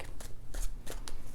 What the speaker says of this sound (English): let's just give these a few more shuffles